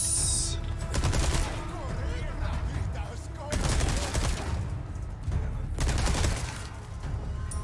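Gunfire in the video game Resident Evil 4 Remake: repeated heavy shots or bursts roughly every two to three seconds, loud and booming over continuous in-game rumble and ambience.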